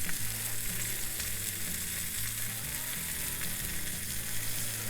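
Hawaiian-style burgers brushed with teriyaki glaze sizzle on an Akorn Kamado grill, a loud, continuous frying crackle with no pauses and no voices.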